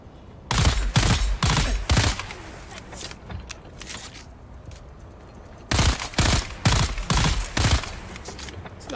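Turret gunfire in the video game Dune: Awakening: two loud bursts of rapid automatic shots, fairly close, separated by a few seconds of quieter fainter firing and ambient rumble.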